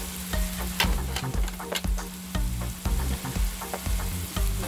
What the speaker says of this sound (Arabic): دابا ندير التحميره، ندير شويه ديال الخرقوم غير حتى هو صحي.